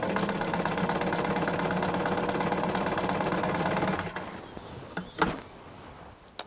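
A 1941 Singer 1591 vintage sewing machine runs fast with a dense, steady mechanical whir and rapid stitching clatter, then stops, leaving a few scattered knocks and clicks.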